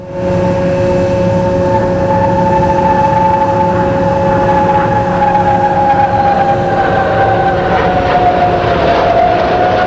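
Jets of the Al Fursan aerobatic team, flying the UAE-built aircraft at the Dubai Airshow 2025, make a final flyby, a loud sustained roar with a slowly falling whine that holds steady and then fades slightly, heard without any talk.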